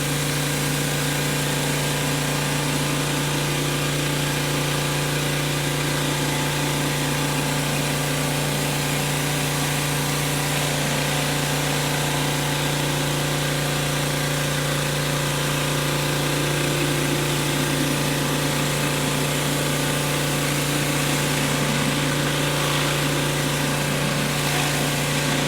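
A Westinghouse 2700 gas pressure washer runs continuously, a loud steady engine drone with a strong low hum and constant buzzing vibration throughout, with no voices.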